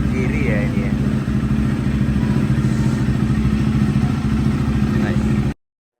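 A new 2024 KTM RC390 motorcycle runs at a steady, loud idle, its exhaust burbling close by with a continuous low thrum and some mechanical clatter, ending abruptly.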